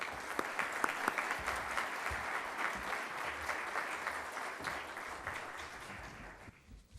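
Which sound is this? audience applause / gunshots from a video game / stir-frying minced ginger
audience applause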